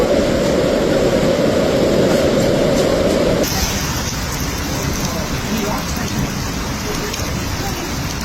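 Heavy rain pours down steadily during a New York thunderstorm, a loud continuous roar with low rumbling beneath; the low, booming layer drops away abruptly partway through, leaving the hissing downpour alone.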